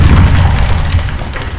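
Explosion in the horror video game Amnesia: The Bunker, a loud, deep booming blast with heavy low rumble that lingers and slowly fades, heard alone.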